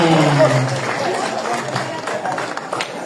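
A crowd at an Aymara content creators' gathering in Acora, Peru, claps and cheers for the Bolivian delegation, a dense close wash of applause mixed with chatter and voices, with a lower tone fading out at the start.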